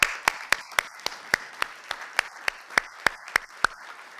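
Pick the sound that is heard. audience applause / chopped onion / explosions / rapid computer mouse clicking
audience applause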